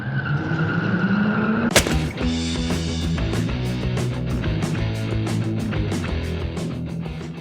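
An old SUV that had overheated and was leaking coolant cranks and fires up with a sharp catch, then settles into a loud, steady idle with a rough rhythmic pulse, close by and without speech.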